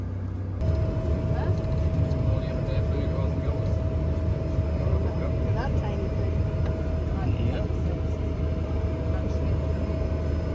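Steady, loud drone of a small airplane in flight toward Belize City, heard from inside the cabin, with a constant engine hum and a fixed tone running unbroken throughout.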